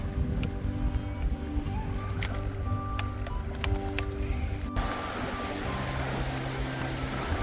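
Water rushes steadily at a wide river mouth on the Isle of Skye, a continuous broadband wash with scattered faint clicks, growing noticeably louder and hissier partway through.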